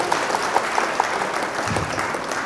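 An audience at a Hindi poetry recital in Noida claps in a dense, steady burst of applause that stays even throughout, with a few sharper claps standing out near the start.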